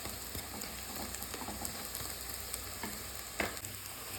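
Lentil fritters (bora) fry in hot oil with a steady, crackling sizzle and scattered sharper pops, a close, continuous bubbling with no talking.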